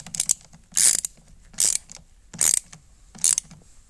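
A ratchet tightens a battery cable bolt on a 2012 Grand Caravan, producing four sharp, close clicking bursts at a steady rhythm with short quiet gaps between them.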